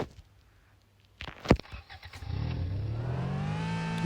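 A Grand Theft Auto V Infernus sports car engine roars into life after a sharp impact, then revs up with a rising whine, loud and close.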